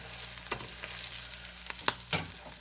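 An omelet with picante sauce sizzles in a frying pan just after being flipped, a steady close crackle broken by a few sharp clanks and scrapes of the spatula.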